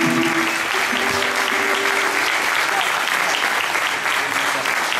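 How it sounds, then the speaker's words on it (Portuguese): A theatre audience at Teatro Sá da Bandeira gives a sustained round of applause for the presenters, a dense, even clapping that stays loud and steady throughout. A few voices are heard faintly at the start. "peço uma salva de palmas para os apresentadores"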